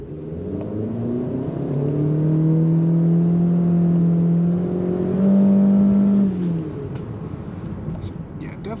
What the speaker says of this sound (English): we'll give it a little bit of gas, see what sort of power we're working with at a slow roll